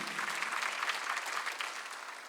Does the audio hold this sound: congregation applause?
yes